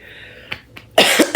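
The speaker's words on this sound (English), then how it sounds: "I need to clear my throat" A person clears their throat with a few short, close rasping bursts after two faint clicks, the last bursts loudest, with no speech.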